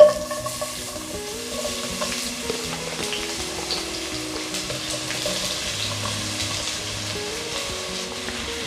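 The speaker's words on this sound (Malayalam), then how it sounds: "നമുക്കിതിലേക്ക് സവാള ചേർത്ത് കൊടുക്കാം." Sliced onions hitting coconut oil and ghee in a kadai for chicken biryani give a steady, close sizzle with stirring scrapes, running continuously beneath soft background music.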